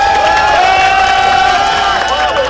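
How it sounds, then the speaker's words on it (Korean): Dense rally crowd at a Korean People Power Party district-head campaign event outside Balsan Station in Gangseo, loud cheering and shouting with whoops sustained throughout, a steady near roar without a break. "여러분 큰 박수로 맞이해 주시기 바랍니다."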